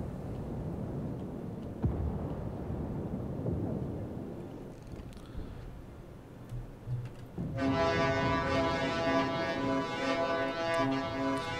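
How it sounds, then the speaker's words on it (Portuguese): A warship's horn blasts loud and steady from about 7.5 seconds to the end in World of Warships, sounding rich and tonal over a rumbling background of sea and engine noise. "Dá uma buzinada, né? Pra avisar aqui"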